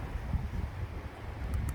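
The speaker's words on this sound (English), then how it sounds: "The wind is really picking up." Wind picks up during a thunderstorm, a faint, continuous breathy rush with low gusty buffeting and no clear breaks.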